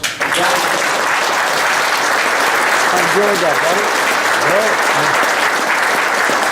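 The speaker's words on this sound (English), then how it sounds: "A round of applause." Audience applause fills a room at a racing club gathering, steady dense clapping throughout, with someone speaking briefly over it.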